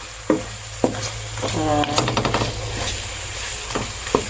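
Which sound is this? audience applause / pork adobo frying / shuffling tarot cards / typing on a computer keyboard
pork adobo frying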